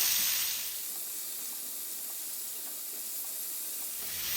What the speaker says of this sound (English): Now flip them on the other side and allow them to get a nice color on the other side as well.